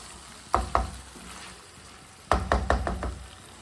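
Chicken frying in a pan, stirred and mixed with a spoon in two bursts of knocking and scraping strokes over a soft sizzle, close and fairly loud with no talking.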